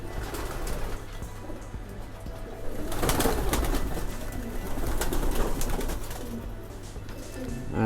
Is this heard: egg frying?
no